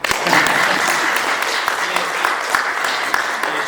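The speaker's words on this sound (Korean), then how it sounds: "박수 한번 해주시죠" A congregation at a Korean church commissioning service for a short-term mission trip to Mexico gives a round of applause, with steady, moderately dense clapping and a few sharper claps standing out for several seconds.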